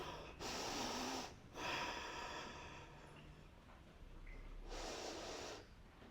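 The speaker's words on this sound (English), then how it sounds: "Big deep breath." Deep, audible breaths during a yoga stretch, a slow inhale and exhale repeated with quiet pauses between, close to the mic and fairly soft, with no talking.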